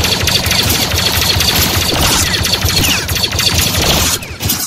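Hostile gunmen in a video game open up with dense, rapid automatic fire, a loud, sustained fusillade of overlapping shots that barely lets up before briefly dropping at the end.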